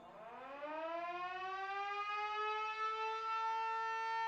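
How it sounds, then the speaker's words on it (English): Rising, wailing civil-defense-style siren from Super Danganronpa Another 2, its tone sweeping upward and then holding steady, loud and continuous with no voices. "What's that creepy siren sound?"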